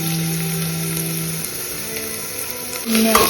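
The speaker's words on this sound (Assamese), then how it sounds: "এতিয়া পিঁয়াজখিনি অলপ ফ্ৰাই হোৱাৰ পাছত নহৰুখিনি ইয়াতে এড কৰি দিম" Onion frying in a pan as garlic goes in, with bay leaf, cumin and whole spices, a continuous close sizzle with a steady hum and a louder burst of frying near the end.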